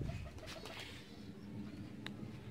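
Soft, low cooing from pigeons, including a yellow female, murmurs close by over a steady background hum.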